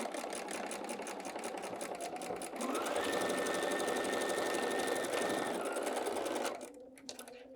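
A sewing machine runs a steady quarter-inch seam through quilting cotton, its rapid needle chatter holding continuously near the mic, speeding up slightly midway, then stopping abruptly with a few soft handling clicks after.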